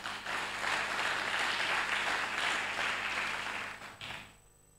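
A church congregation applauding during a sermon, a dense, steady wash of many hands clapping for about four seconds before tapering off abruptly into near silence.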